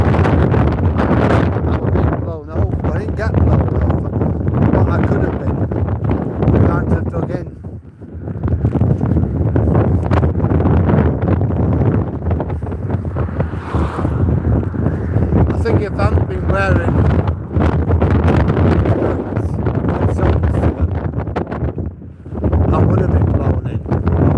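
Strong, cold wind blasts across a beach at Hollym, a loud continuous roar buffeting the microphone with brief lulls, and a voice talks beneath it.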